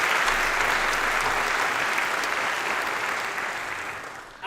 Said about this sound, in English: if I can one more time have a round of applause for senior Jordan Greenlee, who just sang our national anthem